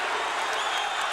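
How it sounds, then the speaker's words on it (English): A boxing arena crowd roars and cheers continuously during a Livingstone Bramble versus Ray Mancini fight, a dense steady wash of noise with no breaks. "The crowd is on its feet."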